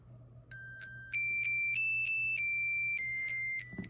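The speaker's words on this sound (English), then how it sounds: "So obviously you can ring it just like you can in Apple Find My." A SwitchBot tracker for Apple Find My rings with a bright electronic chime, a series of steady beeping tones stepping in pitch in a repeating pattern, close and clear over a faint low hum.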